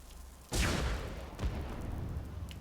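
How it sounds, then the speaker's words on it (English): Massive spell explosion from the Uchiha Clan mod in Skyrim, a sudden loud broadband blast that rolls into a long roaring decay, followed by a second smaller burst about a second later, with no voices. "It's a very huge explosion."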